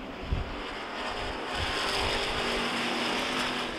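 Race cars in a AAA bracket heat at Rockford Speedway roar past on a restart, a broad continuous engine wash that swells after a brief early thump and holds steady, loud and fairly near.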